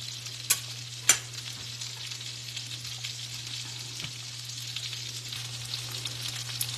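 Salmon seasoned with Old Bay frying in a pan over medium-high heat, a soft steady sizzle with a few sharp clicks near the start, faint over a low background hum.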